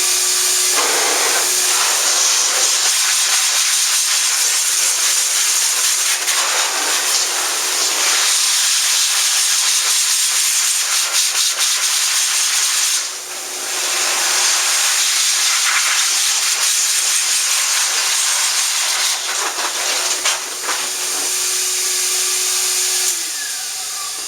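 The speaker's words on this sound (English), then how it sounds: "use a high velocity dryer" A loud, steady rush of air from a high velocity pet dryer roars continuously, with the motor's whine shifting slightly in pitch and dipping briefly partway through.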